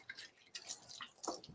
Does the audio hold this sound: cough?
no